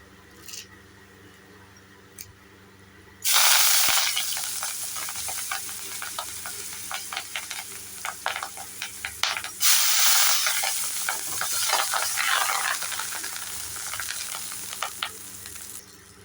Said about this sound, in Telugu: వేగిపోయిందండి కరివేపాకు అంతా